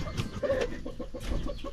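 Chickens cluck near a nest with freshly laid eggs, a few short clucks and soft calls, close and fairly faint, with no one speaking.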